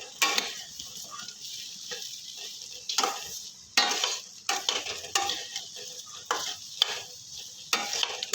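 Rice for pulao frying in a pan with cashews, raisins, salt and sugar, stirred with a utensil in repeated scraping strokes over a steady low sizzle, close and moderately loud, no talking.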